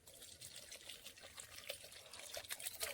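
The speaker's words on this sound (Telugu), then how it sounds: "కొద్దిగా మాగినాక కావాల్సినంత వాటర్ పోసుకోవాలి" Water is poured into a clay pot of egg bhurji, giving a faint, continuous trickling splash for about three seconds with no talk.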